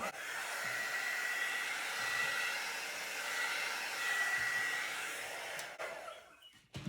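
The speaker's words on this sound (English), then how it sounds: "Now, I've got my hairdryer, which is quite a heavy one actually, and it's got quite a wide mouth on it." A heavy, wide-mouthed hair dryer blows steadily and close for several seconds, a constant rushing whir that cuts off near the end.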